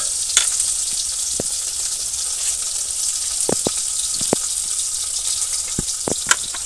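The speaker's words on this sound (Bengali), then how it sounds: "মাছগুলো ভাজা হতে থাকুক" Fish sizzles steadily in a hot pan, a constant close hiss broken by scattered sharp pops and clicks.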